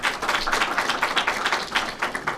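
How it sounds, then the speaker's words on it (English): A room of guests, including a mayor and a commissioner, gives a warm round of applause at a Diverse Learners Cash Assistance Program event, with steady, dense clapping that holds for the whole stretch, close and unbroken, with no talking. "Can we give them a warm round of applause?"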